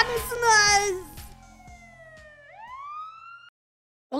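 A fire engine siren in the video game Minecraft wails with a rising and falling tone and then cuts off abruptly; a child-like voice speaks just before it.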